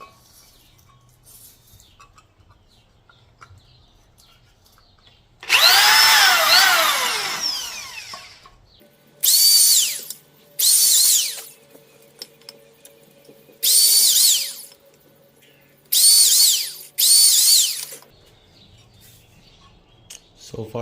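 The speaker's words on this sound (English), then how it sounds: "So I have a few drill bits right here to try to get to the appropriate size" A handheld power drill bores out a hole with successively larger bits, sounding as one long loud burst followed by several short, sharp whining runs separated by quiet pauses, with no talk.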